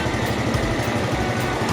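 A boat engine drones steadily and close, a constant buzzing motor hum with no pauses or voices, on a river crossing from Don Det in Laos toward Cambodia.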